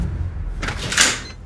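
A door opens and swings shut nearby, with a brief rustling creak followed by a soft thud, over faint low room noise.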